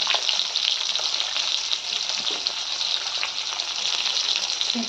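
Fish dal made with masoor-style lentils and bottle gourd bubbling and sizzling in a pot, a loud, steady frying hiss with faint clinks, alone without talk.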